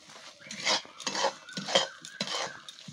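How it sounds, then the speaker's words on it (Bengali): A utensil scrapes and knocks against a pan while boiled-down milk and sugar are stirred for sandesh, in close, irregular strokes with no talking. "এবার এটার মধ্যে মিশিয়ে দেবো চিনিটা, কারণ চিনিটা দেওয়ার পরও অনেকটা জল বার হবে, তাই চিনিটা আমি দিয়ে আরও কিছুক্ষণ নেড়ে নেবো"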